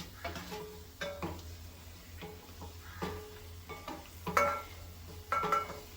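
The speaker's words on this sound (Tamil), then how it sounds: "நல்லா முந்திரி வந்து கொஞ்சம் பொன்னிறமாக வர வரைக்கும் வறுத்து எடுத்துக்கோங்க" Cashews fry in a pan until golden under a soft, low sizzle, broken up by repeated light clinks and scrapes as they are stirred.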